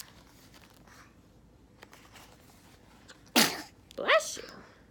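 A single sharp sneeze bursts out loud and close, then a short spoken reply follows over a quiet room background during a children's picture-book reading.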